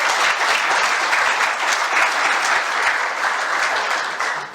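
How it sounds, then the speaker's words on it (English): An audience at an Indigenous Peoples' Day gathering in Grand Forks applauds for Courtney, loud, dense, even clapping that holds steady for several seconds before tapering slightly at the end. "How about a round of applause for Courtney?"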